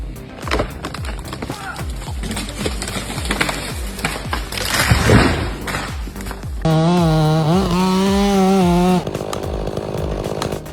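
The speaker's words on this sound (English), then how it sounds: "pro-level control while the saw bites into timber" A chainsaw cuts into giant cedar timber during springboard logging, its engine rasping and pulsing under load, then screaming at a steady high pitch for a few seconds before dropping back.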